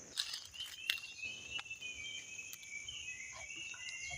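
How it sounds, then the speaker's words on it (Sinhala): Birds call outdoors in a quiet, remote spot, faint high chirps and whistles carried over a steady shrill insect drone, with no one speaking. "කුරුල්ලෝ විතරයි කෑ ගහන්නේ."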